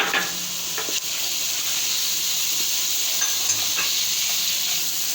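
Cumin and coriander powder roasting over a medium flame in a non-stick pan give a steady soft sizzle and hiss, with occasional faint scrapes from stirring and no talking.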